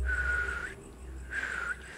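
A person forcing out a whistle: two thin, steady whistled tones, each under a second, separated by a brief pause, faint and close against a quiet room.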